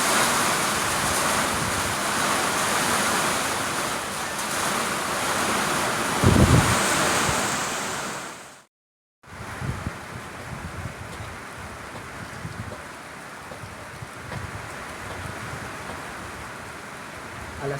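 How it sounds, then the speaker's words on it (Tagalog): Strong swirling typhoon wind roars and buffets the microphone continuously during landfall in Bicol, a dense rushing noise that drops out for a moment and then resumes at a slightly lower level. "napansin nyo yun, umiikot ang hangin"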